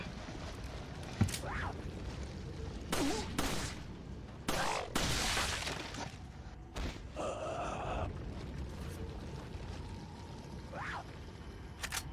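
Sharp gunshots ring out in the survival-horror game Resident Evil 4, a scattered string of loud cracks with quiet gaps and some breathy gasps between the shots.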